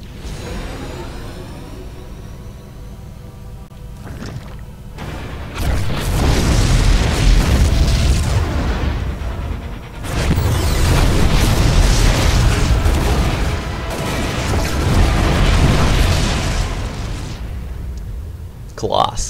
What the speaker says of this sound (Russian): Взрывы утихли.